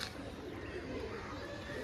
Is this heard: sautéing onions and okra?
no